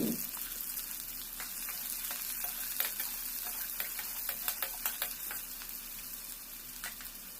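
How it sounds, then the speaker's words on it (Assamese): Bitter gourd with onion fries in a pan, a close, even sizzle punctuated by a run of sharp clicking spatula strokes as it is stirred. "ইফালে তিতাকেৰেলা ভাজি বনাব লৈছোঁ।"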